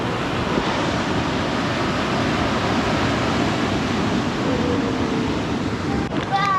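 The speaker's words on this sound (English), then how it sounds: "I think that's going to make these waves even more epic." Stormy waves crash against rocks on the Welsh coast in the rain, a loud, unbroken roar of surf and wind close by, with faint voices near the end.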